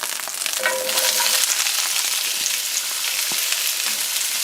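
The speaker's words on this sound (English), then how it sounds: "it's going to cook with all those beautiful onions I have here" Raw onions frying in a pan for chicken paprika, a steady soft sizzle with faint stirring, moderately close and continuous, no talking.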